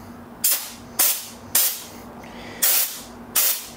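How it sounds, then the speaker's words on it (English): Spray gun at about 55 PSI spraying colored bed liner onto a car in five sharp, loud hissing bursts, each dying away quickly, with short quiet gaps between them. "I don't remember how I have the gun set, honestly, so let's just see how it sprays out."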